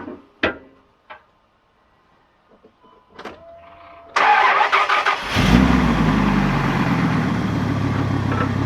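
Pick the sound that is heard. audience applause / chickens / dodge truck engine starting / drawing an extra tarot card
dodge truck engine starting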